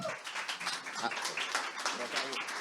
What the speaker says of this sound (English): thank you so much for this great applause